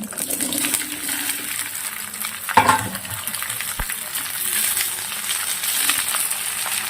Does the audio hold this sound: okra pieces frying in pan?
yes